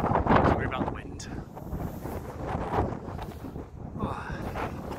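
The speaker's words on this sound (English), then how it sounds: "Sorry about the wind." Strong gusting wind buffets the microphone on an outdoor allotment plot, producing loud rumbling, roaring wind noise that rises and falls continuously across the whole stretch.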